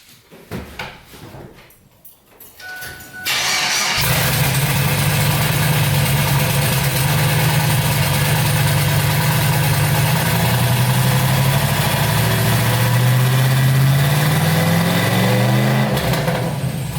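A triple-turbo LS-swapped Ford Ranger engine cranks and fires on its first start after quiet rustling, then settles into a loud, steady, rumbling idle that continues close by.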